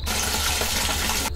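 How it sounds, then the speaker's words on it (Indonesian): Water runs from a tap in a steady, close gush that pours continuously before cutting off abruptly at the end. "Suara air itu mendadak tak lagi terdengar mengalir."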